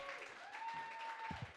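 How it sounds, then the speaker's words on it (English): Audience applause at a comedy show as the final comedian of the night is called up, a steady wash of clapping with a faint tone and some voices underneath. "start clapping for your final comedian of the night, Mr. Ron G."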